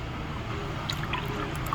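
Soy sauce poured into a pot of pork humba, a soft, continuous trickle of liquid near the microphone with a few faint drips and clinks toward the end.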